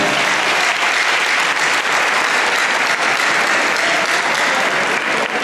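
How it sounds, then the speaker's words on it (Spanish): An audience at an anniversary conference on the power of numbers breaks into sustained, dense applause that stays loud and even from start to finish. "un aplauso por favor para la señorita."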